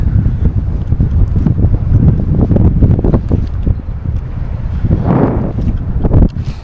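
Wind buffets the microphone on a seashore by the Baltic Sea, a loud, continuous low rumble with gusty bursts and flutter that swell and ease throughout. No voices are heard.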